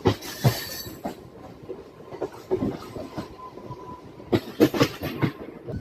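A MEMU passenger train running between Karimnagar and Sirpur Town, heard close from inside with steady rumble, rhythmic clickety-clack of wheels over rail joints and brief wheel squeals, with louder bursts near the end.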